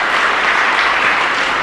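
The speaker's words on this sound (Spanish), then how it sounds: "un fuerte aplauso también" A congregation applauding at Mass in a parish church, a loud, steady wash of clapping from many hands throughout the short clip.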